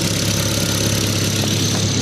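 A 2004.5 Volkswagen Jetta GLI with the 1.8T turbo engine idles steadily, a close, even low rumble with a constant exhaust drone and no other sounds.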